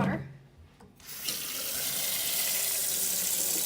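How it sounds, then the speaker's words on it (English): Tap water pours into the basin of a countertop water filter. Faint handling sounds come first, then a steady, close hiss of running water that continues to the end. "you are going to simply fill it up with water"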